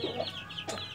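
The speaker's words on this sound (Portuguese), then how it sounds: "Essa galinha é filha do Roxo do Bim" A hen clucks close by in short, throaty bursts, with a brief quiet chicken call in between, and no talking.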